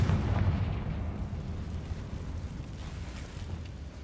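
A Confringo explosion spell in Hogwarts Legacy bursts loudly at the start with a deep booming blast, then fades into a long, low rumbling tail.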